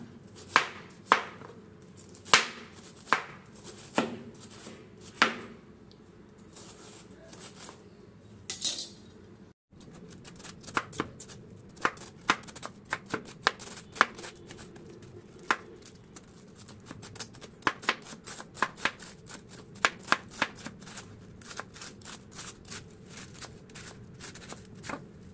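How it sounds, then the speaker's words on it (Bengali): A knife chops cabbage into thin shreds for pakora on a cutting board, making sharp, close, irregular taps in bursts with brief pauses. "এখন আমি এটিকে যত সম্ভব পাতলা পাতলা করে কেটে নেব।"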